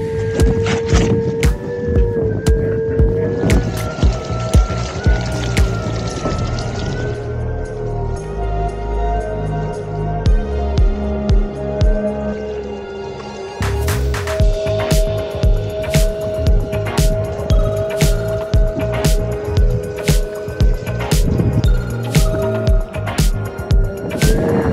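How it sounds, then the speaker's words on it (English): An AeroFoils electric hydrofoil board rides over water. Its motor gives a loud, steady electric whine that shifts in pitch, with constant rushing wind and splashing ticks throughout. "So we just went on a ride on this AeroFoils board."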